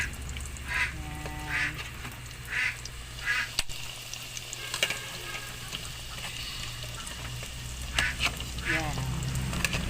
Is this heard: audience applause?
no